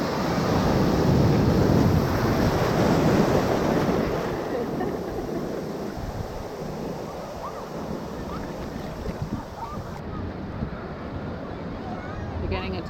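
Ocean waves washing in at Old Orchard Beach, a loud broadband surf wash at the start that eases into a steadier, softer roar with wind buffeting the microphone.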